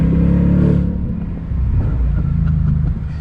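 A 2021 Shelby GT Speedster Mustang convertible accelerates on throttle with a loud, close, deep engine rumble that builds and surges steadily.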